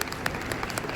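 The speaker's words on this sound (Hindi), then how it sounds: "तालियां मारो" An audience claps at an educators' workshop, a short, dense burst of steady applause from a crowd.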